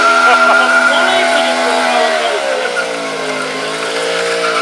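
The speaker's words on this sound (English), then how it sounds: "This is the current R1 machine with the usual firing order." Yamaha R1 motorcycle at a bike show, the engine held at a loud, steady high rev with a droning tone that sags slightly in pitch partway through, close and dominant.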